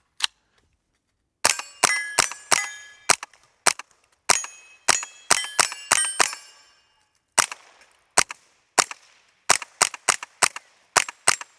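A Smith & Wesson M&P 15-22 rifle fires a long string of sharp, cracking shots outdoors, loud and close. The shots come in irregular clusters with short pauses between them.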